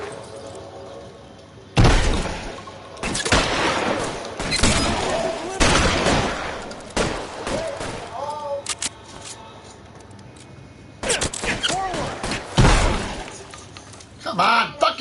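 Gunfire in a PS4 video game: loud broadband shot bursts, some isolated and some in quick clusters, spread across the clip with a raised voice talking between them.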